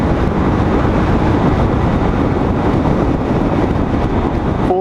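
A 2014 Honda Grom motorcycle ridden at full open throttle around 60 mph, a steady loud engine drone mixed with heavy rushing wind buffeting the microphone throughout.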